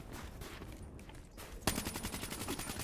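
Rapid automatic gunfire in Black Ops 3, quieter scattered shots giving way at about 1.7 seconds to a loud, steady burst of repeated rounds close by, with no talking.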